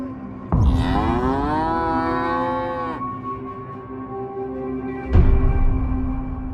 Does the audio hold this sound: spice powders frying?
no